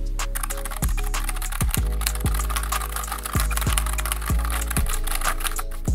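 Typing on a thin NuPhy Air75 wireless keyboard, a steady run of light, fast key clicks close up over a low background hum, with no talking.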